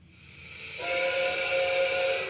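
A Lionel Legacy model steam locomotive sounds its whistle, opening with a breathy steam hiss that swells into a loud, sustained chord of whistle tones held steadily to the end, with no talk.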